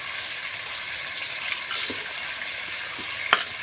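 Chicken leg pieces frying with turmeric and salt, a steady bright sizzle broken by a few stirring scrapes and clicks, one sharper knock near the end.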